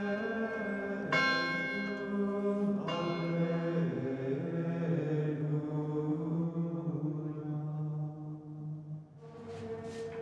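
A monastery church bell rings in a forest valley by a mountain stream, sounding two or three struck peals whose rich overtones hang and slowly decay, fairly distant and alone.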